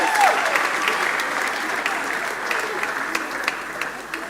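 Audience applause at a graduation prize-giving ceremony, a dense, steady crowd clapping that stays full and even throughout.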